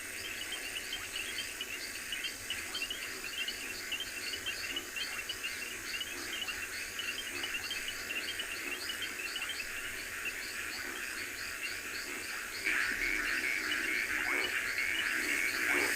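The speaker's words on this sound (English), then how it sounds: "Can hear frogs in the river, can hear the reed frogs" Reed frogs calling by a river at sunset on safari, a dense chorus of rapid repeated chirps and trills layered with insect buzz and occasional bird calls, steady and moderately distant, swelling slightly toward the end.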